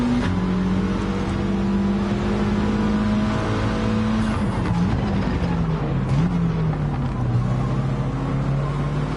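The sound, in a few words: race car accelerating and shifting gears in PS4 racing video game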